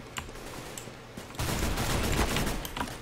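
Gunfire from a gun in CS:GO: a few scattered single shots at first, then a dense, loud burst of rapid automatic fire for the second half.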